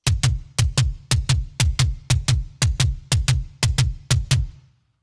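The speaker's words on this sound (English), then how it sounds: "here's a demonstration of the bass drum part" Kick drum beats in a steady repeating pattern of paired hits, punchy and close, played alone before stopping into silence; the bass drum part of a song.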